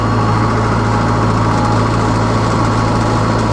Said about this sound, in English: I put on that big yellow bucket in front of our backhoe loader, and I use it just to backblade